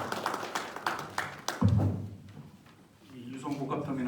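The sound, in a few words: audience applause at a panel discussion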